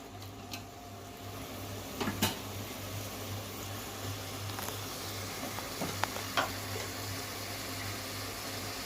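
Mint and fenugreek leaves are stirred into a biryani masala in a pan over a low, steady sizzle, with a few sharp scraping clicks from the spoon against the pan and a faint hum beneath.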